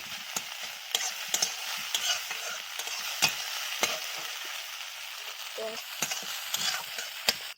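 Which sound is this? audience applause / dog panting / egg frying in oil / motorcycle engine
egg frying in oil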